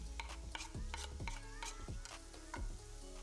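Onions and mushrooms frying in a pan, a steady close sizzle broken by repeated bright clinks and scrapes of a utensil stirring against the metal, in rhythmic bursts about every half second.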